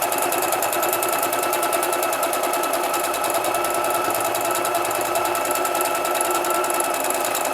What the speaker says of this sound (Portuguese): é ideal você costurar com a máquina usando pontos menores, tá?